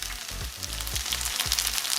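Tofu searing undisturbed in a hot pan for Mexican vegan tofu meat, a continuous crackling sizzle with light popping, moderately quiet and steady throughout.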